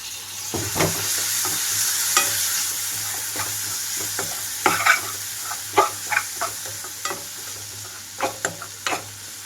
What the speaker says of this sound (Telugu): ఇప్పుడు ఇందులోకి కట్ చేసి పెట్టుకుని టమాటోలు వేస్తున్నాను.